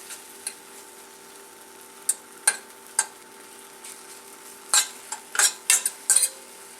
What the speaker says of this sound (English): And then just continue to stir them